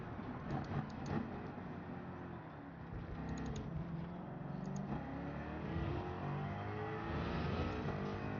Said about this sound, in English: The engine bogged down.